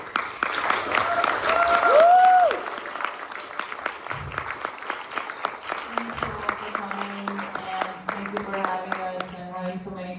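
An audience applauds a panel at a discussion event, with steady clapping throughout, while a speaker talks over the start and a brief whistle-like tone sounds early on.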